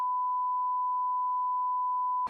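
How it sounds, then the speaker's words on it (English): A steady censor beep tone runs for about two seconds, loud and unbroken, masking a spoken name, with a brief burst of voice clipped at the very end. "We'll beep it out."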